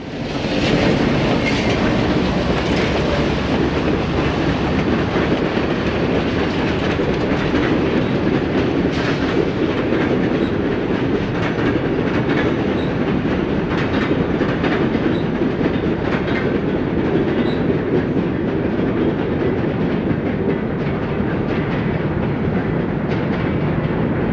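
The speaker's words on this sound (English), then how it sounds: "Coming up the grade from Rougemere Freight Yard, the southbound Cincy crosses the bridge over New York Central tracks." The southbound B&O Cincy passenger train climbs the grade from a freight yard and crosses a bridge over other tracks. A loud, steady rumble of rolling wheels with faint clicking from the rail joints carries on without a break.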